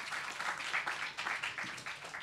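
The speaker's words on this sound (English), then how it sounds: "Round of applause for that." A live audience at a comic writer's talk gives a short burst of applause, dense steady clapping filling the room for a couple of seconds with no voices over it.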